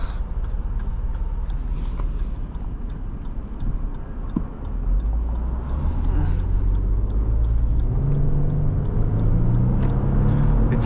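A 2024 Lexus GX550 engine heard from inside the cabin while driving, a deep rumbling drone that climbs in pitch as it accelerates, steady and fairly loud throughout.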